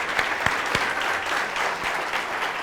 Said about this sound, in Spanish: Por favor, un aplauso para el señor Hernán Usquiano